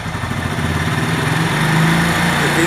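Motorcycle engine running steadily close by, its drone rising gradually as it is revved toward about 3000 rpm, with no talking over it.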